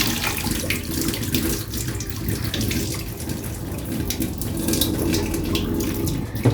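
Beans rinsed under a running kitchen tap, water pouring steadily and splashing into a sink at close range for several seconds, loud and continuous with no voices.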